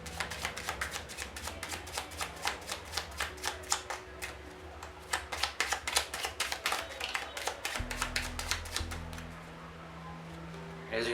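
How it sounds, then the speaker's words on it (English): A deck of playing cards gets an under false overhand shuffle, a quick run of crisp riffling slaps and flicks repeating close up, with a low hum underneath. "this is the under false overhand shuffle"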